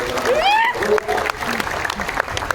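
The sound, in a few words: audience applause welcoming minister to stage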